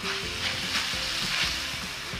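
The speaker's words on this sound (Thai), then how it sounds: "แล้วเราก็ผัดคลุกเคล้าไส้ปอเปี๊ยะให้เข้ากันเลยนะครับ" Spring roll filling with fresh glass noodles is stir-fried in a pan, producing a short, close burst of sizzling with rhythmic tossing and scraping, and no voices.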